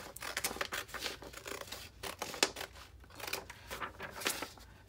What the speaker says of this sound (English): I can just use my scissors.